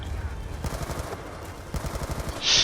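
Rapid bursts of automatic gunfire crackle in Call of Duty Black Ops 2, close and choppy, in short clustered volleys that swell louder toward the end.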